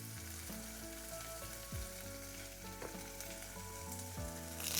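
Onions, green chilies and asafoetida frying in hot oil, giving a steady close sizzle throughout with a few soft stirring knocks, under a faint background melody and no talk.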